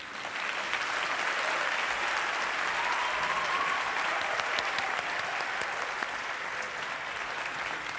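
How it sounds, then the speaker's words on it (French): Sustained, even applause from a concert audience greeting the Orchestre National de France, a dense wash of many hands clapping steadily and loudly throughout. "On les applaudit."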